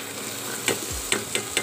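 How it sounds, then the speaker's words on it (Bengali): Fried potatoes are tossed into a spiced masala and stirred in hot oil, a quiet sizzle under several sharp scraping clinks of a spoon against the pan, close up. "এবার আমি ভাজা আলুগুলো দিয়ে দেবো।"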